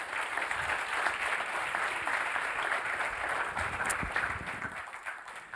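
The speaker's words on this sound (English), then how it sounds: "So let's give this panel a big applause." An audience applauds a panel at a science park event, with dense, steady clapping running throughout and fading slightly near the end.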